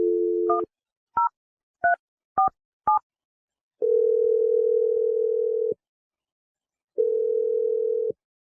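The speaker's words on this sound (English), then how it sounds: "I'm going to dial Wendy's phone number" A telephone number is dialed: a steady dial tone, then five quick DTMF keypress beeps in an uneven rhythm, followed by two long ringback-style tones separated by silence, all clear and close with no talking.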